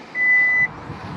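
A Kia Niro HEV hybrid's power tailgate gives a single sustained electronic warning beep lasting about half a second, clear and steady over a low background hum.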